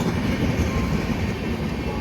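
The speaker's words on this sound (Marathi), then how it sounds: "त्यांच्या ट्रेन दोन्ही साईडून चालू आहेत" A train runs along railway tracks at a rail crossing during the monsoon, a loud, steady rumble of wheels and carriages passing close by with no talking.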